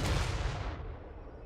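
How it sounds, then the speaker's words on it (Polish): Cannon and mortar fire in Total War: Warhammer 3, a single heavy booming blast that rolls and fades over about a second. "Tam się strzela armata i tego."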